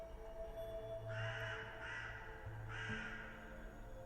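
Crows in the video game Saint Kotar caw three times in a ragged sequence, harsh and moderately distant over quiet ambient drone.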